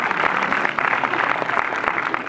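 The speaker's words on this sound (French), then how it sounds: "on t'applaudit encore une fois très très fort" An audience at a magic show applauds, with steady, dense clapping that fills the whole stretch at an even, fairly loud level and no voices.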